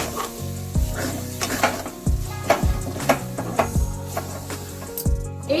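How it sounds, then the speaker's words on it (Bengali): A dal mixture is stirred in a kadai over a low-to-medium flame: repeated scraping strokes in an uneven rhythm against a soft background sizzle, close by, with no talking. "এইভাবে আস্তে আস্তে মিক্সচারটাকে নাড়াচাড়া করতে থাকবেন।"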